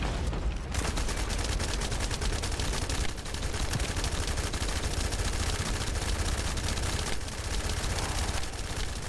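Relentless rapid automatic gunfire in the shooter video game The First Descendant, a dense loud stream of shots with only brief pauses as a magazine is emptied.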